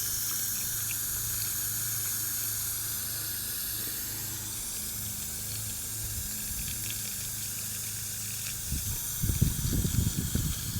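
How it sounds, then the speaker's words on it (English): Garden hose spray watering newly planted milkweed in a no-dig bed, a steady soft hiss of water running throughout with heavier splashing near the end. "So this spray is like heavy enough and solid enough to create movement, but not harsh enough to like wash it all away too quickly"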